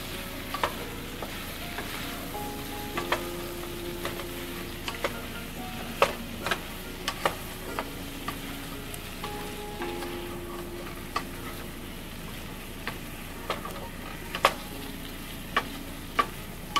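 Half a teaspoon of paprika powder is stirred into a frying pan for a kabocha squash and shrimp curry. A soft sizzle runs underneath while a spatula scrapes and taps the pan in irregular strokes.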